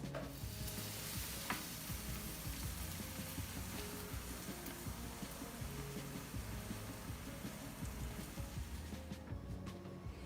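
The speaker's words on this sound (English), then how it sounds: "go ahead and spin your lettuce until it's dry" A salad spinner whirls freshly washed lettuce dry, giving a close, continuous rushing whir with a fine rattle that holds steady for about nine seconds before easing off, with no talking.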